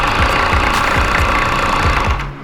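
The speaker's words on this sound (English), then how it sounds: "Alright, so we ran our overlock now" Overlock sewing machine running steadily while stitching and trimming a seam, a loud, close, rapid mechanical chatter with a fast repeating knock that slows and stops near the end.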